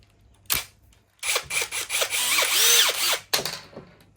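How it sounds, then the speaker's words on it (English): A power drill backing screws out of a 12-volt power box: a short blip, then a loud whirring run with rising and falling pitch, stopping and restarting briefly, close by. "Do the drill."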